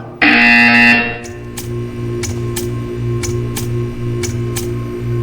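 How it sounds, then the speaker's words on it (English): A sharp electronic buzzer in the video game Portal 2 sounds for about a second, followed by a steady low hum with faint repeated ticking clicks. "You will hear a buzzer."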